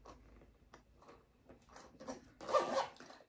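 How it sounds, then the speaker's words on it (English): A zipper on a small bag is opened in several short, close ticking pulls, ending in a louder, longer rasp. "Has a zipper top"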